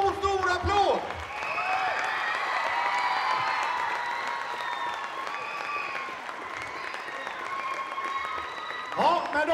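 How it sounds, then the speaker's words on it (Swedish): A standing audience at an end-of-season gathering gives sustained applause, a broad, even wash of clapping lasting several seconds, with a voice speaking briefly at the start and the end. "Så att vi ställer oss upp och ger Mikael Johansson en stor, stor applåd!"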